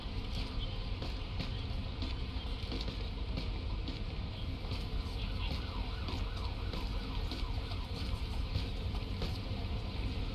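An ambulance siren in the video game Police Simulator: Patrol Officers wails in a steady rising-and-falling pattern, moderately distant, under a constant loud engine-like rumble.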